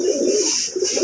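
Pigeons coo softly in low, rolling murmurs, close by, with no talking, in Chandni Chowk, Delhi.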